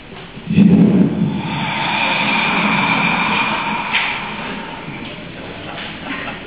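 A voice makes a long, breathy exhale as an imitation of breathing, rising quickly and then slowly fading over several seconds, close and alone.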